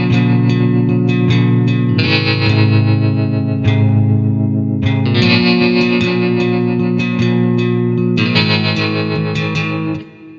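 Bright, jangly baritone electric guitar chords strummed continuously with effects and reverb, the chord changing every couple of seconds, loud and close.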